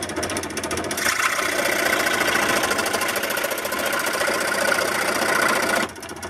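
A power saw cuts off a glued wooden piece of a walking stick flute, giving a steady, loud, buzzing whine that runs for about five seconds and then drops away abruptly.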